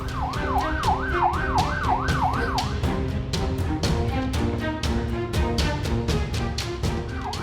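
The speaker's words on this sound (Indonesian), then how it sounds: "Mobil ambulans yang membawa pasien kritis terhalang truk yang ngetem di tengah jalan" An ambulance siren wails in a fast rising-and-falling yelp, loud and close, over heavy road traffic noise on a busy street in Lebak, Banten, while the ambulance carrying a critical patient is held up by a parked soil-hauling truck.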